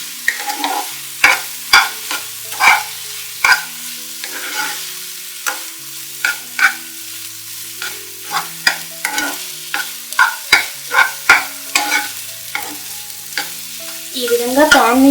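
Rava kesari with cardamom powder is stirred in a pan, a spoon scraping and tapping in an irregular rhythm over a soft sizzle, close and alone with no voices.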